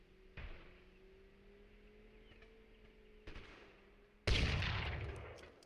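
Musket shots in Totally Accurate Battlegrounds: a sharp shot, a quieter second crack over a steady engine-like hum, then a loud booming blast that decays slowly, with no talk.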